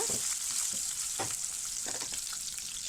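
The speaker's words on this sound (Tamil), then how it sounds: "இதை வந்து நல்லா வதக்கிடலாம்." Green chilies, garlic and ginger sautéing in a pan for mutton keema gravy, a constant hissing sizzle with scattered stirring scrapes and clinks, close and alone.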